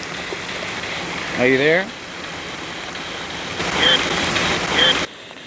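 Heavy downpour pounds down outdoors at a battlefield site in Carlisle, Kentucky, a steady broadband hiss of rain running throughout, with brief voices breaking in over it.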